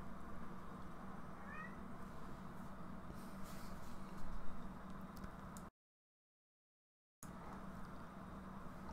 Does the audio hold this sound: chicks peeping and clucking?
no